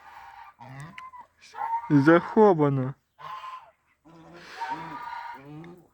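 Geese and ducks in snow on a cold winter day honk and quack in a loud flurry of overlapping calls, with short pauses between bursts; a voice briefly speaks amid the birds.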